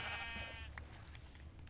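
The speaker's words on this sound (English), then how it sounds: "Oh, another sheep." Sheep in the Minecraft video game gives a single short, wavering bleat at the start, faint and followed by quiet game ambience.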